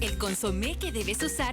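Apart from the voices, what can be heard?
No everyday noise stands out behind the speech.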